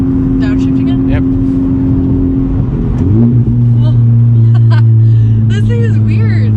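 A tuned Honda Civic Type R engine revs up on a downshift, its loud droning note jumping in pitch midway, with people talking inside the car over it.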